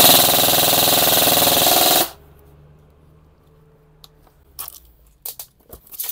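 An airsoft rifle with a mid-cap magazine, shooting around 350 to 360 FPS, fires a dense, loud burst on full auto for about two seconds, then stops abruptly; faint clicks and handling noises follow.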